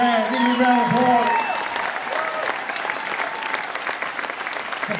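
Big round of applause from a concert audience, dense continuous clapping that follows a sung note, with a voice heard over the start before the clapping carries on alone.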